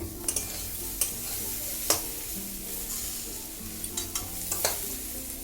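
In a wok, half-boiled potato and bitter gourd are stirred with a spatula, giving scattered scraping clicks over a steady frying sizzle. There are no voices.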